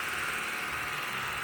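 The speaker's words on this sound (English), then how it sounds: "Blake's over here cleaning up some tubes on our new Ameribraid sander" An Ameribraid sander cleaning up chassis tubes in a fabrication shop, giving a steady, droning mechanical hum with a grinding edge and no talk, heard close.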